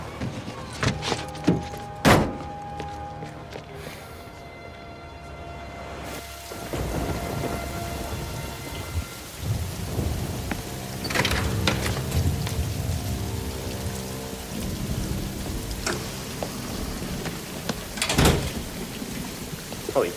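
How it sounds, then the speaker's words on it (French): Heavy pouring rain with thunder: sharp close cracks and rolling rumbles break over a dense, steady downpour that continues throughout. "Oh, il pleut à verse."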